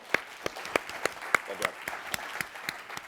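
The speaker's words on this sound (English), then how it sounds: "A round of applause to the side in favor." Applause from an Oxford-style debate audience for the side in favour: a sparse, uneven patter of distinct claps close by, with a faint murmur of voices under it.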